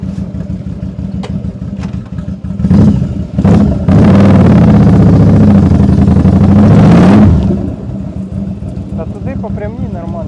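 Yamaha Drag Star 1100 exhaust revved hard, a loud, close, deep roar swelling up twice and then held for several seconds before dropping back to a rumbling idle, with people talking around it.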